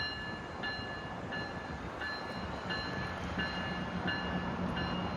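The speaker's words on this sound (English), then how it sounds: "Okay, the GO train's now going to leave." A GO commuter train departs, rumbling steadily with a low, continuous roar and faint high tonal whines, heard from nearby in Scarborough, Toronto, no voices.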